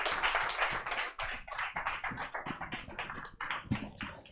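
A comedy show crowd claps to welcome a comedian, a dense, lively round of applause that stays steady throughout and eases only slightly toward the end.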